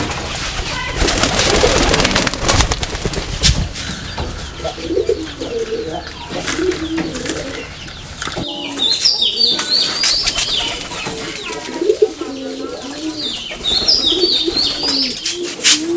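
Pigeons coo in low, throaty rolling phrases, close and repeated through a busy stretch with rustling, some wing flapping and a few higher chirps, no talking.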